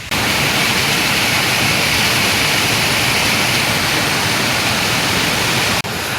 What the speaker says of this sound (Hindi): बहुत बड़ा पत्थर है, पत्थर के नीचे पानी निकलता है।